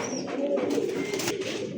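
Pigeons at a market stall cooing in low, throaty rolling calls, close and fairly continuous amid faint background noise.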